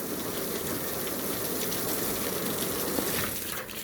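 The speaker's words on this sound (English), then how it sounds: "it's starting to rain" Rain falls at an outdoor car race meet, a steady, close rushing hiss of water with no clear pauses and no voices.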